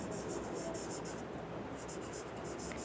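A marker or chalk scratches across a board in short rhythmic strokes, close and clear, pausing midway and then resuming.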